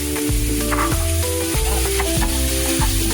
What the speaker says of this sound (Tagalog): Sunod na po natin ang ground beef. Ayan po. Igisa lang po.